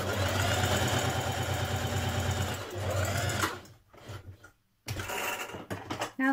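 A sewing machine stitches a jacket hem with steady, close mechanical whirring that pauses briefly, stops, then resumes in short bursts.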